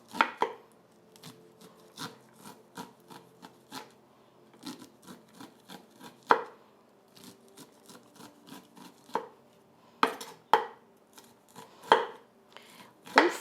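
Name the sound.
grating corn on a metal and wood grater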